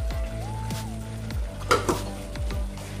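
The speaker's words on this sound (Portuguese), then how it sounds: "Enquanto eu tava fritando o frango" Chicken frying in a pan for stroganoff makes a steady close sizzle, with a few sharp clinks and scrapes of a utensil stirring against the pan.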